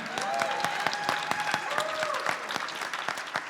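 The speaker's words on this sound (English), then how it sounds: "let's give it another round of applause for Mr. L.J. Lindsay on the trumpet" A concert crowd applauds a trumpet soloist at a jazz band performance, with many hands clapping steadily and fairly softly, some individual claps standing out, and cheers and voices rising over the clapping.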